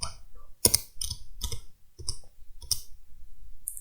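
A computer mouse clicks about seven times in an irregular rhythm, crisp and close, with short silent gaps between the clicks.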